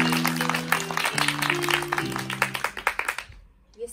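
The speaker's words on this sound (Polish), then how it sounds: "Wielkie brawa dla was." Audience applause at an improvised Shakespeare-style theatre show, a crowd clapping steadily under a sustained sung or spoken tone, the claps thinning into a few scattered, sharper hits before fading to near silence.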